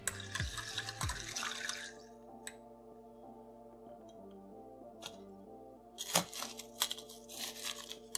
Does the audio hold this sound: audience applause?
no